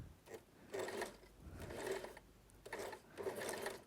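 Sewing machine stitching a lapped zipper into fabric, running in several short bursts of steady mechanical whirring separated by brief pauses, fairly quiet and close with no talk.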